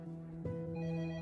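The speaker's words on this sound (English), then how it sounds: "Myers' phone rang" A telephone rings once with a sustained electronic tone, close and clear, with no talking over it.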